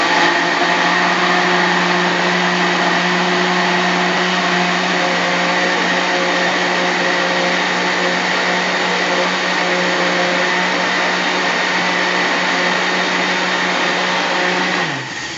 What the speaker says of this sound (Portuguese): Tem que bater até tudo ficar bem misturado.